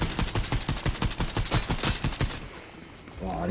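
Rapid automatic gunfire in Fortnite, a fast even string of loud close shots for about two and a half seconds, then a brief quieter tail with a small clatter.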